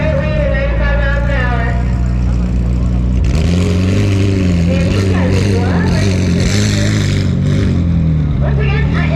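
A 945-horsepower McLaren 720S with Stage 2.5 mods on a quarter-mile drag strip, its engine droning and rising in pitch as it accelerates while people talk over it.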